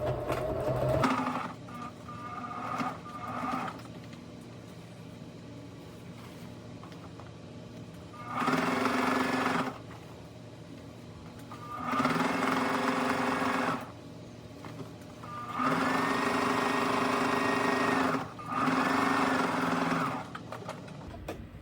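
A sewing machine top-stitches an apron in four bursts of steady, close whirring, separated by pauses of quieter handling noise.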